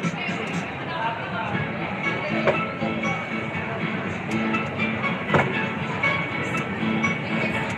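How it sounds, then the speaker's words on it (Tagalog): A train at SM Lazaro rumbles along with rail clatter and a few sharp clanks, moving haltingly as if stopping and starting, while people talk in the background. "Yung tao kasi kaya medyo umihinto-hinto yung train eh."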